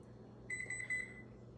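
Kitchen oven control panel beeping while being set to 350 for baking, a few short, fairly faint electronic tones in a quiet room.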